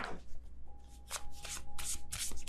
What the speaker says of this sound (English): I'm trying to be careful as I shuffle my cards because I feel like I'm treating them a little too roughly.